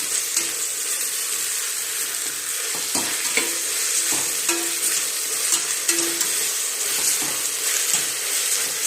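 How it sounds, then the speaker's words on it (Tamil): Chopped onions sautéing in hot oil for chicken biryani, a steady close sizzle with scattered stirring scrapes and clinks of the spoon against the pan, with no talking. "கோல்டன் ப்ரௌன் கலரில் நமக்கு வந்து வெங்காயம் வந்து வதங்கணும்"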